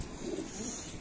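An injured female wild pigeon that cannot fly gives a soft, low cooing, faint and continuous throughout the short stretch, with no other sounds above it.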